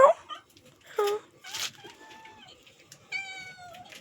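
A cat meows a few times close by, short harmonic calls with a longer drawn-out meow near the end, over quiet background noise.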